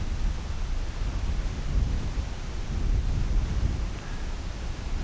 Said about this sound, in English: I'm sitting right on top of a wind-blown ridge